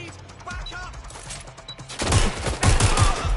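Gunfire in Watch Dogs, a few scattered shots early, then a dense burst of rapid automatic fire in the second half, loud and close over game ambience.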